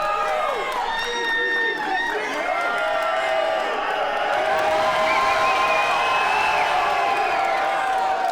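Spectators cheer, whoop and shout loudly at a championship slap fighting match, a dense, continuous roar that swells in the latter half, with an announcer's voice talking over it.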